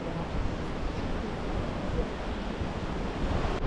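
White water rapids rushing through a narrow cavern on a boat ride in the Adirondacks of upstate New York, a loud continuous roar of churning water and wind with no pauses.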